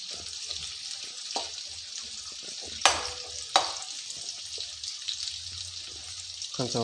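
Brinjal curry being stirred in a pan, with a soft steady sizzle under scraping spoon strokes and two sharp clanks of the utensil against the pan partway through.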